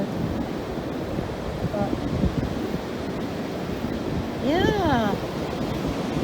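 Ocean waves wash up onto a beach with boats offshore, making a continuous loud rushing surf mixed with wind buffeting the microphone, and a person speaks briefly near the end.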